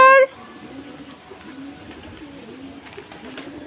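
Pigeons coo softly in a low, rolling murmur on a rooftop garden, a continuous gentle burble at moderate distance after a short voice at the very start.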